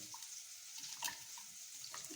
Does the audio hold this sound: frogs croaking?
no